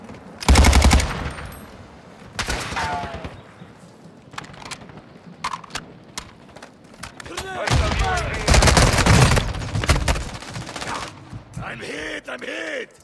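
Automatic and single-shot gunfire in Warzone 2 on the Vondel Resurgence map, loud bursts and sharp repeated cracks spread across the moment, with in-game voice chatter and effects around them.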